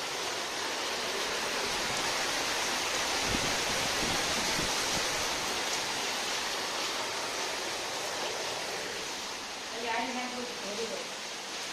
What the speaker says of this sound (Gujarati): અત્યારે જબરજસ્તનો વરસાદ પડે છે